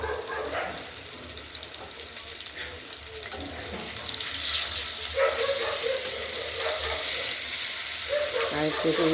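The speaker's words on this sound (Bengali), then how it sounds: "মাছগুলো ভাজা হচ্ছে।" Pieces of katla fish fry in a pan in a home kitchen, a continuous crackling sizzle that grows louder about halfway through, with scattered clinks and stirring noises.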